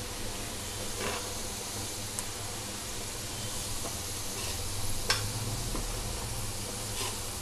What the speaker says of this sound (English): We have to fry them until our onions and fenugreek leaves gets into a crispy ones.